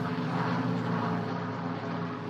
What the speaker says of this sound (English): It's like a Spitfire going over.